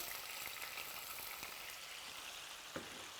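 Red onion sizzles in hot olive oil in a pan, a faint, steady crackling fry with tiny pops throughout and one slightly louder tick near the end.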